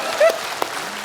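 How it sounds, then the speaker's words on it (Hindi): A studio audience applauds at a comedy show, a short burst of crowd clapping under a faint voice. "तालियां।"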